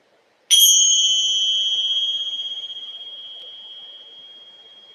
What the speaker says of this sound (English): Once more with the chimes.